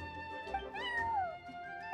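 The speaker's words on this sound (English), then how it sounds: "I'm sorry, that's my neighbor's cat." A neighbor's cat in Genshin Impact gives a single drawn-out meow that rises and falls in pitch, clear and fairly close, heard alone.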